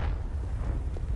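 A Confringo blasting spell explodes in Hogwarts Legacy, a quiet, deep rumbling burst with low booming energy that rolls on briefly and then fades, with no voices.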